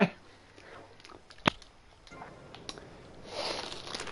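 Close crunchy chewing of explosive pizza flavor Goldfish crackers, soft mouth crunches with one sharper bite near the middle, over faint background noise.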